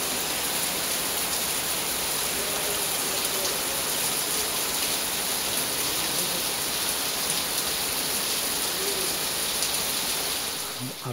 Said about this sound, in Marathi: अर्धा तास मित्रांनो एकदम जबरदस्त पाऊस लागला